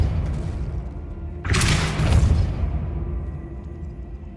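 A Depulso spell is cast in the Hogwarts Legacy video game: a sudden whooshing burst with a deep booming thud that swells briefly and fades over a low ambient rumble.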